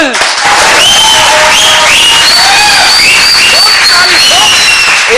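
Live studio audience at a cricket post-match analysis show applauding and cheering, a loud, steady wash of clapping and shouts that holds for several seconds with whistles and voices rising through it.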